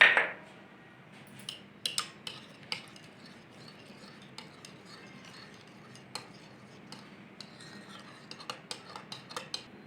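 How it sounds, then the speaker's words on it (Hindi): A spoon stirs ghee, water and yogurt together in a bowl while making balushahi dough. The stirring is soft and continuous, with sharp clinks of the spoon against the bowl scattered throughout. No one speaks. "अच्छी तरह से मिक्स कर लेंगे पहले।"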